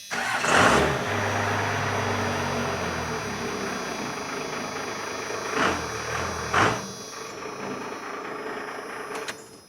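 A 1996 two-wheel-drive automatic truck with a 12-valve Cummins diesel cranks and catches, then settles into a steady, rumbling idle nearby with a couple of brief revs toward the end.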